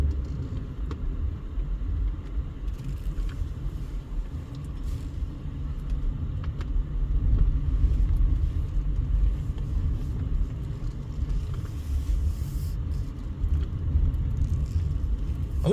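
A car rolls along a quiet road through a desert town near Las Vegas and turns around, giving a steady low engine and tire rumble from inside the cabin that lasts throughout, with no talk.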